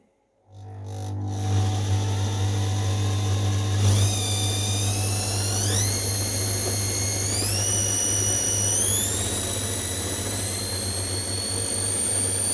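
A homemade lathe motor runs steadily at maximum speed, a loud continuous whine with a strong low hum and high tones that step upward in pitch as it spins up, heard alone without talk.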